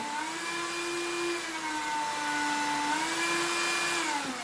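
A Silvercrest handheld vacuum cleaner runs in low-speed eco mode, giving a close, steady motor whine whose pitch dips and rises slightly, alone with no talk.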